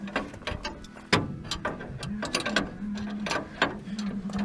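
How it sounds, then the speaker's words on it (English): A ratchet tightens bolts on the new track bars of a Dodge drag truck with a 5.2 Magnum engine: quick, close, repeated clicking strokes in uneven bursts over a steady low background hum. "Just tightening the bolts."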